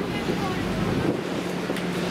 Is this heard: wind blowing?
yes